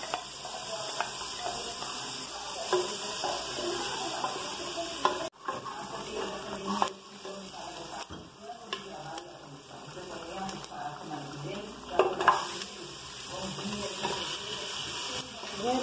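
Onion and garlic sauté in a hot pan for a chicken pirão: a constant close sizzle and hiss with scattered scraping stirs and a few sharper clatters along the way.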